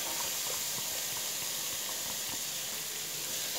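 Onion being sautéed in a pan for a home-cooked Brazilian lunch of beans, rice and chicken, giving a steady, close sizzling hiss that runs unbroken throughout with no talking.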